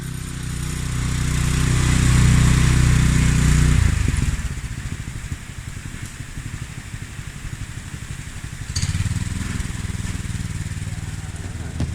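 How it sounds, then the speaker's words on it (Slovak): A tractor with dual rear wheels roars heavily while driving and reversing, then drops to a rattling, lower idle before revving up again, close by and continuous. "na konečné miesto, kde odstavím traktor, potom zacúvam"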